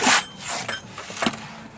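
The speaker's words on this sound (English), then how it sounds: "This is a little wire brush that you can put onto a drill." A small wire brush spinning on a battery-operated drill, used in an auto repair shop to clean sensors, gives several short scraping, rasping bursts close by, with brief pauses between them.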